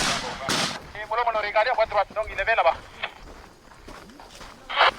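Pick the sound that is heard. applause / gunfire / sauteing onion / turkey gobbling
gunfire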